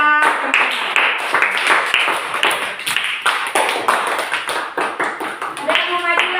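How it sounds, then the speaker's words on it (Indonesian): A class of students clapping in a classroom, brisk and slightly ragged clapping that continues steadily throughout, close and fairly loud, with brief voices and a bright ringing tone at the edges. "Sekali lagi beri tepuk tangan kepada"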